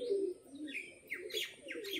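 Pigeons coo nearby in a loft or coop of birds kept for sale, their low throaty calls overlapping with sharper chirps and tweets from other birds over two seconds.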